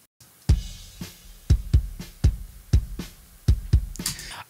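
Compressed kick drum hitting alone in a steady beat, about eight punchy hits with sharp transients and full low-end thump, ending with a brighter cymbal-like wash.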